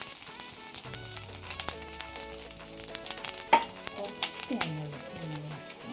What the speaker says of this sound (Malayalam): നമുക്ക് അതിൽ ഇടാനുള്ള തേങ്ങ ഒന്ന് വറുത്തെടുക്കാം